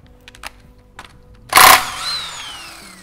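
After a few faint clicks, a power tool gives a short, loud burst on a bolt in a Honda K-series transmission being rebuilt, then a fading whine trails off.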